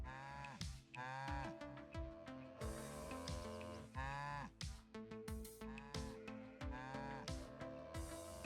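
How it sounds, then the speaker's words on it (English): Cows mooing in the video game Necesse, several drawn-out calls overlapping one another against a busy, continuous backdrop of game music and sound. "Cows are crazy."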